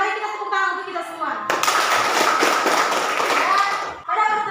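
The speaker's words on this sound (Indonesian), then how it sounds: "Mari kita tepuk tangan untuk kita semua." A school class claps hands together during a lesson in a dense burst of applause lasting a few seconds, with speech just before and after it.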